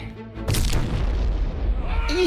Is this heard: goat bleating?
no